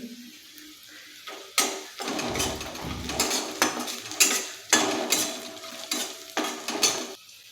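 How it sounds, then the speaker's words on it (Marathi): Peanuts sautéed with onion and green chilli in a pan for ragi upma, with a spatula clinking and scraping in uneven bursts over a faint sizzle, close and fairly quiet. "इथे मी शेंगदाणे घेतलेले आहेत तेही याच्यामध्ये परतून घेऊया"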